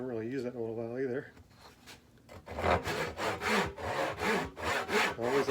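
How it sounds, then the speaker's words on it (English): A freshly sharpened hand saw cuts wood in about eight steady, rhythmic rasping strokes, loud and close, after a brief stretch of someone speaking. "So this saw is pretty sharp."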